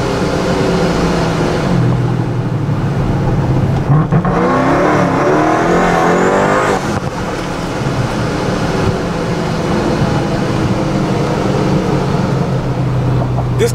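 A fast car driving on a 55 mph road, its engine loud and close with a steady roar and a rising, revving surge in the middle, continuing at full volume throughout.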